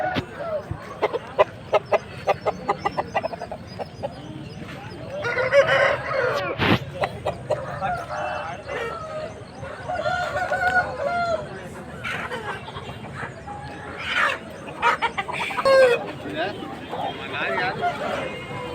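Country chicken roosters crow and hens cluck nearby amid a busy outdoor crowd, with people talking throughout.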